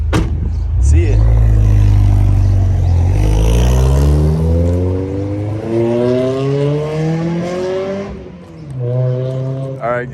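A Honda Prelude with an aftermarket exhaust revs hard in a close flyby, the engine note climbing steadily through a long pull with a shift, then fading and settling before another brief rise; voices are heard over the engine.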